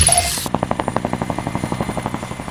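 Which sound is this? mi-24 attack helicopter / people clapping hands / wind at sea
mi-24 attack helicopter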